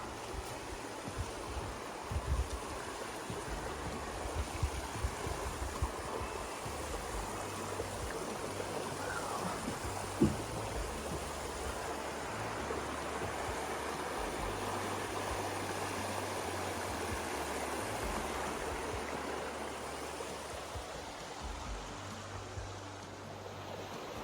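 A river flows steadily beneath a long footbridge on a forest trail, a constant broadband rushing wash that stays even and moderately loud throughout, with no talk.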